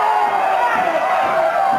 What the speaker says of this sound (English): The crowd hoots, hollers, and barks at Bulldog Bob Brown